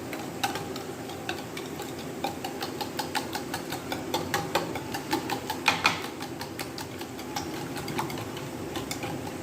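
Eggs mixed with red chili in a bowl, a steady run of quick, close, rhythmic ticking taps from a utensil beating against the bowl, with no talking.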